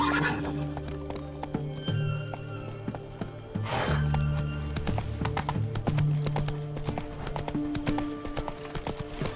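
Horse hooves clip-clop at a steady run in The Witcher 3 video game, joined by a whinny and steady game music throughout, fairly loud and continuous.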